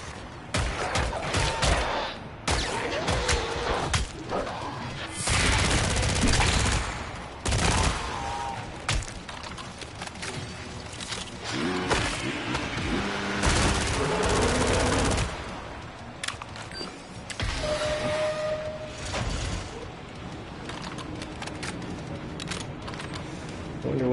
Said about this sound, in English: Activate this turret here. Turret time, baby!